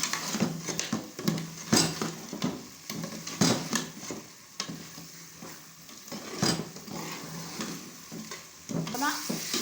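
Minced meat fries and sizzles in a pan for a potato and pea keema, with repeated scraping stirs of a spoon against the metal. The clatter comes in irregular bursts over a steady, close background sizzle.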